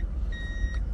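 A Toyota 80 Series with a rebuilt transmission is shifted into reverse, giving one short, thin warning beep over a low, steady engine idle close by.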